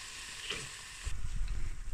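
Oat cooking cream sauce being stirred in a pan, a soft wet sizzle with low scraping and bubbling that grows louder in the second half.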